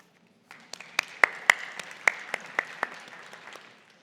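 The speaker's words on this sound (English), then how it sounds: "A big round of applause," A small conference audience at a defense and future-battlefield panel gives a sparse round of applause, a few distinct close claps rising from silence, peaking early, then tapering off.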